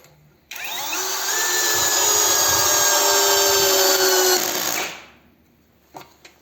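A DRIVAK ED002 cordless drill drives a 6 mm lag screw into wood with a loud, steady motor whine for about four seconds, then winds down. A couple of faint clicks follow as the clutch ratchets.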